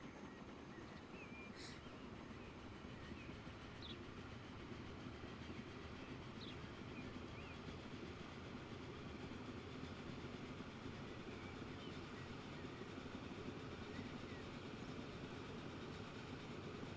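Trains run in the video game Transport Fever 2, a steady, continuous rolling rumble of rail traffic with faint clacking, holding an even loudness throughout with no talking.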